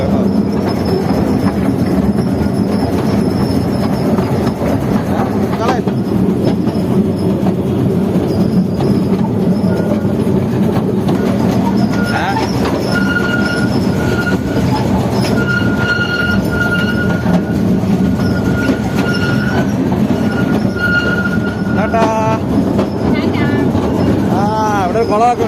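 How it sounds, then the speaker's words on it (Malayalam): A train runs steadily on its rails at night, a loud continuous rumble of wheels and carriages with occasional high metallic squeals toward the end, heard from aboard or very close, with some voices underneath. "ആ ട്രെയിൻ വിട്ടിരിക്കുകയാണ്."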